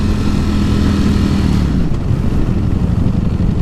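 A 2018 Ducati Panigale V4S sport bike's engine droning loudly and steadily while being ridden, with heavy rumble and wind noise, no voice.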